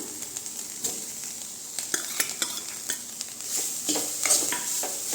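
Cooked carrot and grated coconut are stirred in a pan for a Tamil carrot stir-fry, with a soft sizzle under repeated scraping strokes and light clicks of a spoon against the pan.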